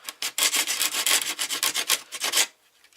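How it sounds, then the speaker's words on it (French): A hand file rasps back and forth across a plastic part, smoothing a sharp edge during modding of an electric skateboard accelerator, in quick loud strokes for over two seconds before stopping. "limer ça un tout petit peu juste pour éviter de m'ouvrir la main"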